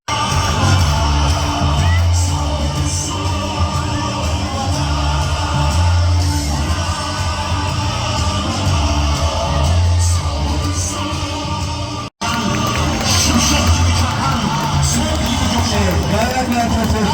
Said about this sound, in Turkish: ayakta alkışlıyoruz